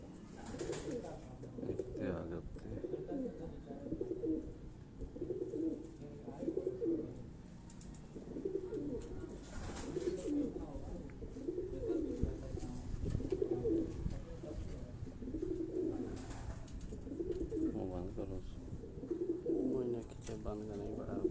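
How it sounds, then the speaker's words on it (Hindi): Pigeons on a rooftop loft in Karachi coo in repeated soft, rhythmic phrases, close and fairly quiet, while people talk intermittently over them. "ये जी काले मुंह वाला कबूतर है"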